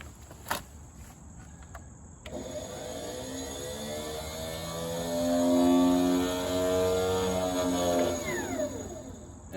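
An IH Cub Cadet 149 tractor's starter generator motoring, a rising whine that swells after a couple of seconds, holds steady, then winds down near the end, close and fairly loud with no talk.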